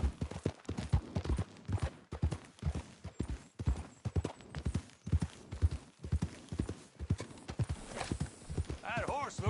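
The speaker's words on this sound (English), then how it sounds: "That horse looks like a fine traveling companion." Horse hooves clip-clopping at a steady walking rhythm in the Western game Red Dead Redemption, close and clear, with a voice talking over parts of it.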